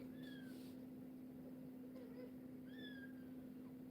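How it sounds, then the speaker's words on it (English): Young kittens give a few faint, thin meows from somewhere nearby, spaced over several seconds above a steady low electrical hum. "Your brothers are in there meowing about how good their nursing time is."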